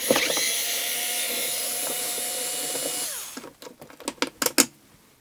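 Power tool driving screws out of the casing of a Sony KV 1320UB television: a loud, steady high whine for about three seconds, then stopping, followed by several sharp clattering knocks and taps close by.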